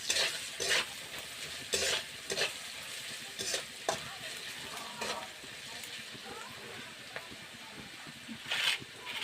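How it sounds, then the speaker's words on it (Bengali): Steady crackling sizzle of potatoes frying in a pan, with repeated scraping stirs of a utensil, close and moderately loud, no talking. "আলুটা ভাজা ভাজা হয়ে গেছে"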